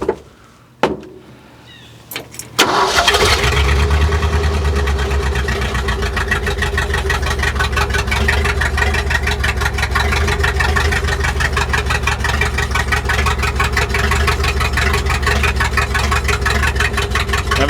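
Ford F600 truck engine cranks briefly after a few clunks, then catches and settles into a steady, loud, rumbling idle that carries on alone without talk.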